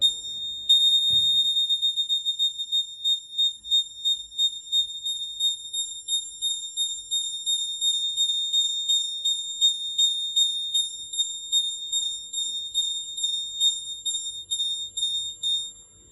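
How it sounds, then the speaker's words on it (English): A student's school-project earthquake alarm model sounds a shrill, continuous high-pitched electronic beeping that pulses rapidly and evenly for about sixteen seconds, loud and close, with a brief click near the start. "Earthquake Alarm."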